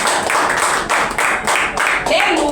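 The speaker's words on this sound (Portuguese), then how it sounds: "Palmas para Jesus." A church congregation claps in a steady rhythmic beat, roughly two strokes per second, close and fairly loud, with a voice speaking faintly underneath.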